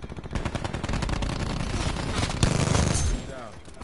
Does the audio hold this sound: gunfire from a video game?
yes